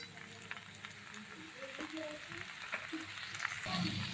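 Potato sabzi for a fasting dish sautéing in a pan, a soft steady sizzle of frying with faint stirring scrapes, close and low in level throughout.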